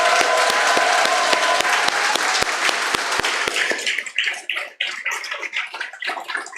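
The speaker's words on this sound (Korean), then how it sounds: "이분들에게는 더 큰 함성과 더 큰 박수 부탁합니다." A church congregation at a founding worship service claps loudly for a few seconds, a dense wash of applause that then thins into scattered claps and fades.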